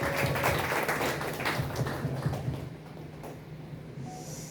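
Party members clap together at a Democratic Party core members' meeting in Daejeon, a steady dense patter of applause that thins toward the end over a low room hum.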